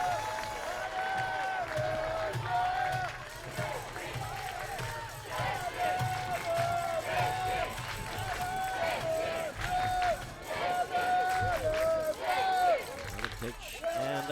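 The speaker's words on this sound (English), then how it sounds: "And you can hear the crowd" Crowd noise at a Czech Republic vs France baseball game, a steady murmur of spectators with scattered claps and cheers swelling and falling throughout, heard from a distance under ambient stadium sound.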